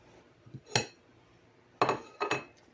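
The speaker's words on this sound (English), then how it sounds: "let me grab a spoon so I can cut this" A spoon cuts into and scrapes cornbread dressing in a baking dish, giving a few brief, close clinks and scrapes separated by quiet pauses.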